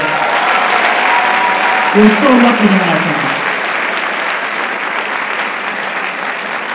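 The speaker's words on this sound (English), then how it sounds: "can we give another round of applause for Mike Kregler on the piano, by the way?" Applause rings out at a high school holiday pops concert in honour of a pianist, a loud, dense, sustained clatter from the crowd, with a voice speaking briefly over it near the start.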